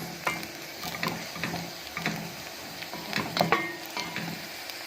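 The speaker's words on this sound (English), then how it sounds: "our onion is still frying nice" Onions fry with a soft, steady sizzle in a pan, broken by occasional scraping stirs, close by and without talking.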